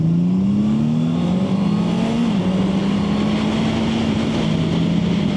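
A 2026 Honda CB650R with an inline-four engine runs loud and steady, its engine note rising and dipping slightly under continuous wind and road roar.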